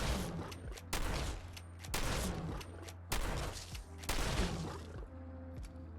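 A regular, unmodified shotgun fires repeatedly at a Deathclaw in Fallout 4. Five loud, booming blasts come roughly a second apart, each with a short ringing tail, followed by quieter game ambience.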